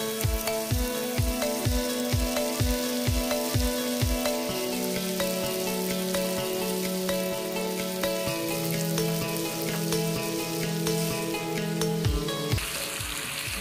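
Liver sizzles and fries in a pan with onions for liver and onions, a dense continuous crackle close up, with rhythmic low thumps of stirring in the opening seconds under a steady musical backdrop.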